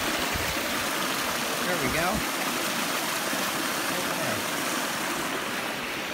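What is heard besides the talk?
water from a culvert pouring as a mini waterfall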